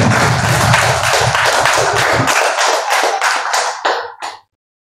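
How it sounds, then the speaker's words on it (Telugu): An audience at a priest's tenth anniversary celebration claps for the gathered priests, a dense burst of applause that thins to a few scattered claps before stopping abruptly. "మనమందరం గట్టిగా చప్పట్లు కొడుతూ కరతాళ ధ్వనులతో హృదయపూర్వకంగా"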